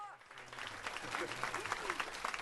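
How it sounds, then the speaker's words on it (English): A theatre audience claps steadily through a performance's close, the applause dense and sustained while voices speak over it. "Did you hear them applaud?"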